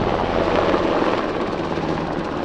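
A UH-60M Black Hawk helicopter at an air show flying display, its rotors thudding in a loud, dense, continuous roar with a rhythmic low beat.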